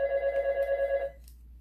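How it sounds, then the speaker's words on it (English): A telephone bell rings once in a rapid warbling trill lasting about a second, fairly clear indoors, then stops. "Phone never rings,"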